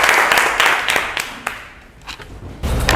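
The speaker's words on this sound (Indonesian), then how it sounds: "Oke, tepuk tangan." A class of students claps hands in response to a teacher's prompt, a dense burst of clapping that thins out midway and then swells again toward the end, fairly close.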